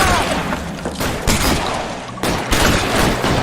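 Video game gunfire in a police shootout, a loud fusillade of rapid overlapping shots with thuds and booms in several sharp bursts.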